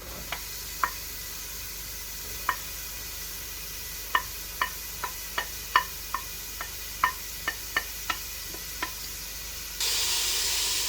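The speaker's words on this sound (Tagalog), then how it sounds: "Let's fry the onion." Chopped onion with garlic frying in oil in a pan, cooked until golden brown for a dried jute leaves dish; scattered sharp crackles and pops over a steady low sizzle, with no talking.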